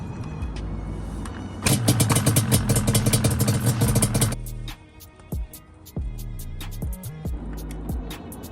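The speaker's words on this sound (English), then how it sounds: "Now we're gonna crank the bike up, check it, add as needed." A 1992 Banshee 350 ATV engine runs close by, first at a steady idle, then revved hard into a loud raspy burst for a few seconds, then dropping back to a lumpy idle with brief blips.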